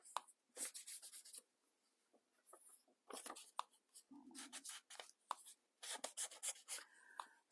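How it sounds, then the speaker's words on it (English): Light scratching and dabbing of an ink pad around the edges of paper for a junk journal, faint intermittent rubbing strokes close by in a quiet room. "lightly ink a little bit around this paper"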